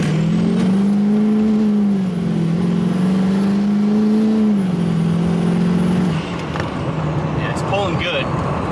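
Chevrolet Duramax LBZ diesel pickup truck accelerating hard, a loud droning engine note rising and holding pitch, shifting, then dropping away as the throttle eases, close and dominant.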